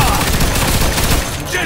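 Machine gun fire in the Mafia II video game, a loud dense burst of rapid shots rattling almost continuously for under two seconds, with shouting voices mixed into the din.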